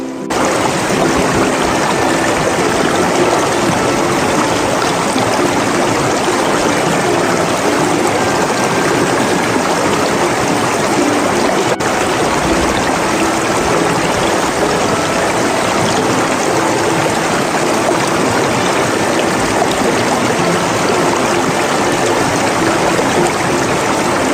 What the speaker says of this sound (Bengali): শীতকালে এখানে জলপ্রবাহ বাড়ে আর গ্রীষ্মে স্থানীয়রা এখানে স্নান করতে আসে